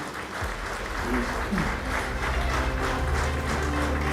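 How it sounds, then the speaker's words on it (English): Audience applauds an award winner at a Change Maker awards ceremony: steady, dense clapping at moderate volume throughout, with faint voices and low hum mixed in. "Let's keep that applause going."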